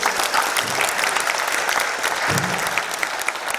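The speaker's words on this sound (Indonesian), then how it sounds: "Sekali lagi tepuk tangan untuk Bu Deni." Audience applause at a talk on studying abroad and scholarships, a thick, steady clatter of many hands clapping at close range, with a brief low murmur of voices partway through.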